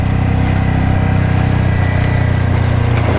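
A side-by-side ATV engine runs steadily as it drives through woods, a loud, continuous close-up drone with a rough, buzzy rumble and no breaks.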